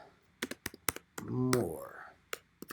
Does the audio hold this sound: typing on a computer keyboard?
yes